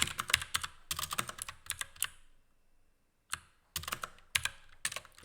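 Keys clatter on a computer keyboard in quick bursts of typing with a brief pause midway, close and fairly quiet, with no voices.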